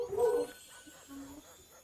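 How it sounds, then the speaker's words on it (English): A dog gives a brief, faint yelp or whimper in the background, distant and muffled. "Did anyone else hear the dog?"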